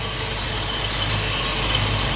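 A 1965 Ford Mustang GT Fastback engine with dual exhaust idles steadily with a low, even rumble close by, no voices over it.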